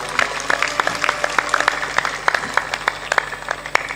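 Audience applause at a spiritual discourse, steady dense clapping with sharp individual claps standing out throughout, fairly close and continuous with no talking.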